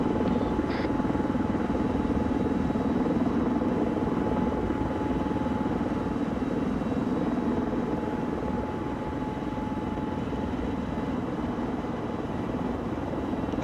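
A helicopter in a military combat video game drones steadily overhead, a constant loud rotor and engine roar filling the scene from start to finish with no talk.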